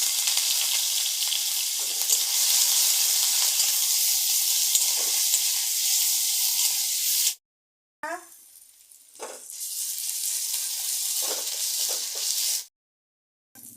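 Whole cumin seeds and garlic sizzle and crackle in hot oil, a loud, dense frying hiss that runs continuously, drops out briefly, then returns with stirring scrapes.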